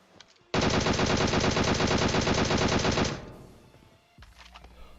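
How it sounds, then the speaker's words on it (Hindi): A burst of rapid automatic gunfire in the mobile game PUBG Mobile lasts about two and a half seconds, loud and close, followed by fainter shots. "लेकिन इतने में ही आगे गोलियां चलती हैं"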